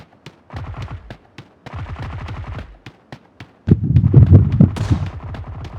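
Gunfire in the battle-royale video game PUBG crackles in rapid bursts of sharp shots, close and loud, separated by short pauses and swelling into a denser, heavier volley near the end.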